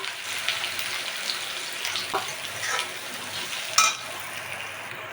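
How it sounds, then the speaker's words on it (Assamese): Steady crackling sizzle of onions frying in hot oil in a wok, close by, with a sharper spatter partway through. "এয়া পিঁয়াজৰ পৰা তেলখিনি বিৰিঙি উঠিছে কেৰাহীত"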